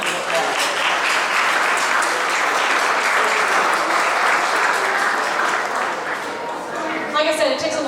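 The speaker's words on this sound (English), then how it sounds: "So let's also give them a round of applause." Sustained applause from an audience at a Cystic Fibrosis Taste Tour benefit event, a dense, steady clapping that fills the space, honoring the event chairs and tapering slightly near the end.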